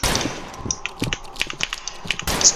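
Rapid sharp gunshots crack in a video game, an irregular string of close, loud pops and bursts spread across a couple of seconds.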